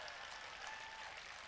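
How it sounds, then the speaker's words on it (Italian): A faint, dense wash of audience applause at a live event, steady and distant for its whole short span, with no single claps standing out. "E beh, battere le mani per uno che compie gli anni."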